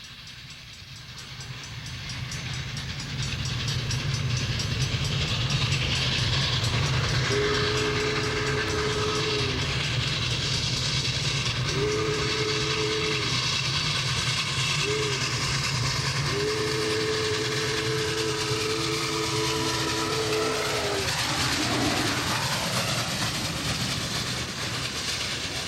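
Union Pacific 3985 Challenger steam locomotive hauls over 3,000 tons of freight up a 1% grade near Greeley, Colorado, its loud exhaust roar building steadily while the steam whistle sounds in several long and short blasts.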